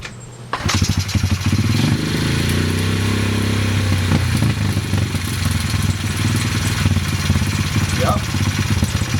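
A Honda CRF50 dirt bike with a freshly rewired carburetor setup is kicked and fires up, settling into a loud, steady, close idle with a continuous throbbing rumble and some mechanical clatter.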